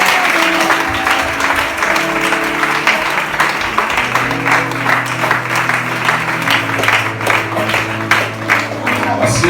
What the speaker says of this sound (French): tu peux donner une acclamation au Seigneur Jésus.